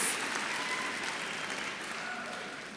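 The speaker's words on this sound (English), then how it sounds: "Let's make her feel a little bit less nervous. Let's give her a round of applause." An audience at a 2014 opening ceremony gives a round of applause to welcome a nervous young speaker, steady continuous clapping throughout, slowly easing in level.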